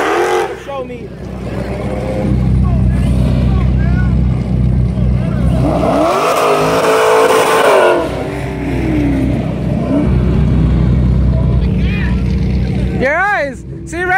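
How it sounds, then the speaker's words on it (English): Cars doing burnouts and revving engines at a car show, loud continuous engine roar with rising revs and tire squeal, heard close amid crowd noise and people talking over it. "everybody's doing burnouts and shit"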